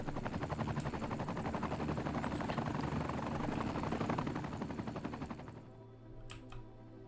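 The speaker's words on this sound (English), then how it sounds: "there's a helicopter here because the hospital's nearby" A helicopter flying near a hospital in the city-building game Cities: Skylines, rapid rotor chopping loud and steady, then fading away with a couple of faint clicks afterward.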